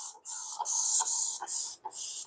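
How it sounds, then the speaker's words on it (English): Four or five quick hissing sprays of vinegar from a trigger bottle, each a short burst of airy spray separated by brief pauses, close to the ear. "And I'm spraying the vinegar."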